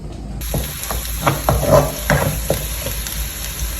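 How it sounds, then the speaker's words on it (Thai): Garlic frying in hot oil gives a close, continuous hiss, broken by quick scraping and clicking strokes as it is stirred in the pan. "เดี๋ยวอันนี้เจียวกระเทียมก่อน"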